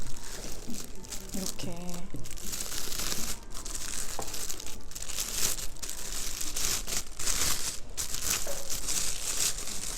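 Plastic wrap comes off a new Leica Q2 camera with loud, close crinkling and tearing that runs throughout, broken by brief pauses. A voice speaks briefly over the rustling.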